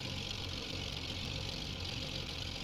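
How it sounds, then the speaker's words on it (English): A Cessna 337 aircraft engine idles in the X-Plane 11 flight simulator, a steady, even drone with a low rumble and hiss that holds constant throughout, moderately quiet with no voices. "we're gonna listen to that engine kind of clucking along a little bit"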